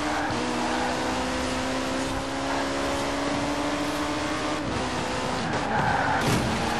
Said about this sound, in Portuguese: Olha o drift, olha o drift.